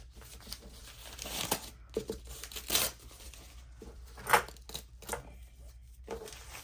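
Embroidery stabilizer backing being peeled off the back of fabric stitched on a Brother SE2000 embroidery machine: a string of short, close ripping and crinkling bursts with brief quiet gaps between them.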